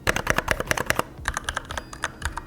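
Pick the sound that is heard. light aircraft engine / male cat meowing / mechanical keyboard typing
mechanical keyboard typing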